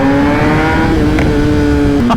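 A Kawasaki ZX-10R sport motorcycle hums loudly and steadily while riding on the street, its engine tone holding nearly level with a slight rise and dip, close up and continuous.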